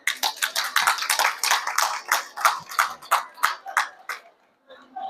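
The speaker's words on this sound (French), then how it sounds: "Merci parrain, sous vos applaudissements" Applause from a school prize-giving audience, steady dense clapping close to the microphone for about four seconds, then breaking off into quiet with a faint voice at the end.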